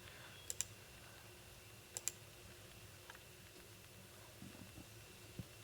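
Faint, crisp computer mouse clicks: two quick double clicks early on, then a few softer taps against a quiet room background.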